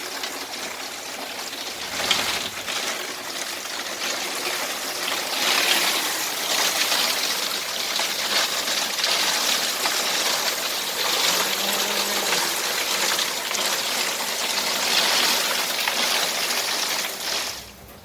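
A heavy rain downpour roars steadily for the whole stretch, a loud, dense, close wash of falling water with no speech over it.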